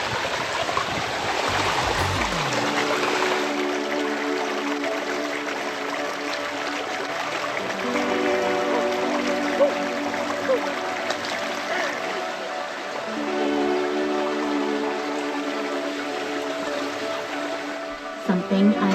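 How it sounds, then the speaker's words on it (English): A stream running high after a very rainy winter, its water rushing steadily and close by for the whole stretch, with tonal, voice-like sounds layered over the constant flow at times. "the water flowing down our stream is unreal"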